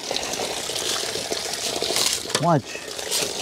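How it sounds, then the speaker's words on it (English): Water poured into a leaf-filled roof gutter with a gutter filter, gushing and trickling through the debris at close range as someone talks over it. "water will always flow through the leaves, through the debris, and the gutter will never fill up with water because it can flow"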